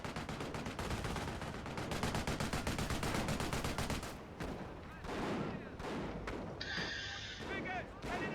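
Rapid Vickers machine gun fire in Company of Heroes, a dense rattling burst for about four seconds, then scattered gunfire, booms and battle noise in a loud Operation Market Garden 3v3 match.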